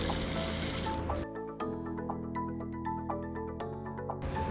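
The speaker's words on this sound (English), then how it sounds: "head inside to wash your hands with soap and water for at least 20 seconds" Running tap water streams steadily into a sink during handwashing with soap, a bright continuous hiss with a brief quieter patch in the middle before the flow surges back.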